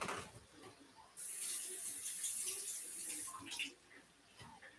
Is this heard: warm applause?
no